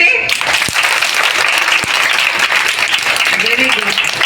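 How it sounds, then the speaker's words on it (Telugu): Children clap together at a school event, a dense, steady burst of applause filling the room, close and loud, with a few voices faintly underneath. "క్లాప్స్ కొట్టండి."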